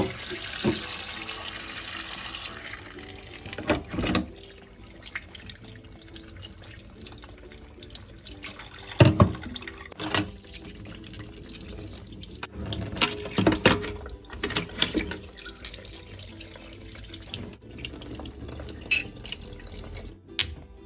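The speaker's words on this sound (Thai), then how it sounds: "ล้างน้ำไล่ผ่านแบบนี้ค่ะ" Pork skin rinsed under a running kitchen tap, water streaming steadily with splashes and sloshing bursts as the skin is moved and rubbed, close and fairly loud, with brief quiet gaps between passes.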